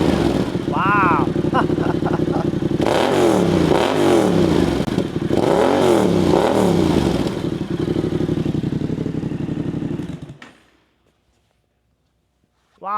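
A Yamaha Tenere 700 fitted with an aftermarket full exhaust roars loud and close, its revs rising and falling in several swelling blips over a steady idle before cutting off, with brief voices nearby.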